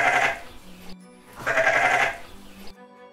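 Sheep bleating in a children's read-aloud of The Very Busy Spider, two loud wavering bleats with a pause between, set over soft background music.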